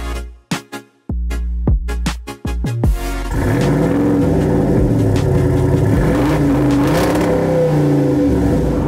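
A 2022 Jeep Wrangler Rubicon 392 with its V8 engine starts up after a few sharp clicks, then settles into a loud, rumbling idle with throaty revs rising and falling.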